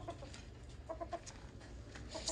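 A rooster gives soft, repeated clucks in short bursts, fairly close but quiet, with no talking.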